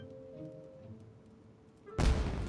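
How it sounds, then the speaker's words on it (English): A single sharp, loud firework blast in Genshin Impact hits near the end, after a quiet stretch with a faint tonal hum, and its noisy tail keeps ringing to the close. "Was that an explosion? It sounded like fireworks."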